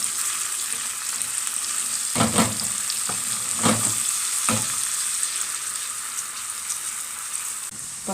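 Garlic sizzles steadily in hot oil for an Egyptian taqlia, a bright continuous frying hiss with a few soft stirring knocks, close and alone without talk.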